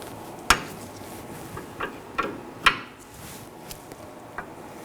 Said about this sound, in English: To break this free, I'll be using a 17mm wrench.